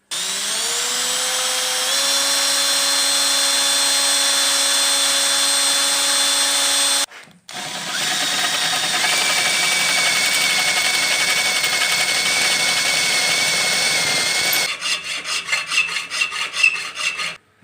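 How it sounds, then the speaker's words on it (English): A drill bores a hole through a metal block, whining steadily with a rising pitch that cuts off briefly, resumes, then ends in chattering, uneven bursts, loud and close with no talking. "what I thought I'd do is just drill a hole in here"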